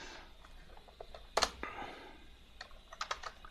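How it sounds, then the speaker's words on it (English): Keys clatter on a computer keyboard in short irregular bursts with one sharp louder strike, close and fairly quiet, no talking. "I'm just going to type in"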